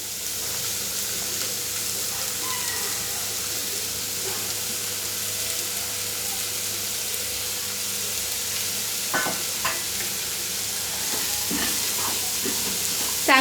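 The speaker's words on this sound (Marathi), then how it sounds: "तर इथे कढईमध्ये तेल तापत ठेवलेलं, तेल तापलंय चांगलं, त्यात बारीक चिरलेला कांदा" Finely chopped onion frying in well-heated oil in a kadhai for a village-style jawla (dried shrimp) dish, a steady close sizzle running throughout with a few sharper stirring clicks and crackles near the end.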